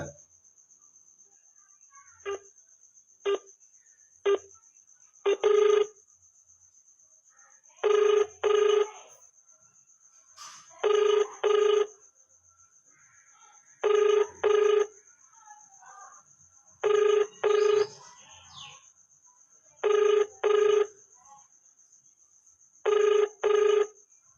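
A telephone rings back after a call is placed, sounding in evenly spaced double rings repeated about eight times, with a steady faint high whine and quiet background throughout.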